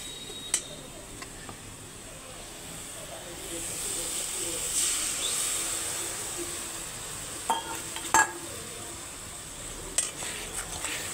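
A spice paste of turmeric, chili and cumin powder mixed with salt and water sizzles as it is sautéed in a pan, a steady close hiss with a few sharp clinks of stirring and no voices.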